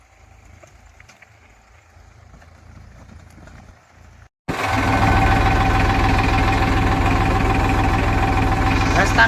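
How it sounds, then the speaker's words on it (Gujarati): A tractor engine runs with a steady, loud, rhythmic knocking chug close by, starting abruptly after a quieter stretch of faint background noise, with a voice heard under it. "અજયભાઈ આપણે આવી ગયા છે ટ્રેક્ટર લઈને હાંકીને"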